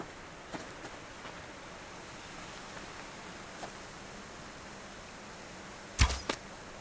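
Bow shot in the hunting game Subsistence, an arrow loosed at a chicken and missing: one sharp twang-and-whoosh near the end, followed by a softer thud, over a steady hiss of outdoor ambience.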